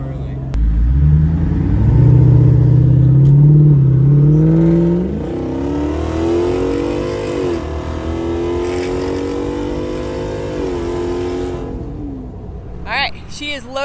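Heavily loaded Jeep driving on the road, its engine revving up loudly, then easing off and climbing again in steady rising and falling pitch sweeps close by.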